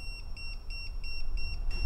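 Wiha IP67 voltage tester held near a live cable, beeping in a steady run of short high electronic pulses, about six in under two seconds, close and clear over low rumble.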